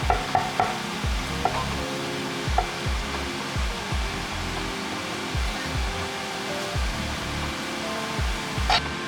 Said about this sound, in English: I throw in the mixed vegetables and let them cook together